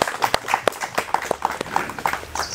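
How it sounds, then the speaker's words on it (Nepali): Applause from a gathered audience at an outdoor public meeting with a mayor in a Nepali municipality ward, a steady patter of scattered hand claps, fairly near and moderate in level, with some crowd noise mixed in. "आउनुहोस् सबैजनाले ताली बजाएर यो कार्यक्रमको सुरु गरौँ"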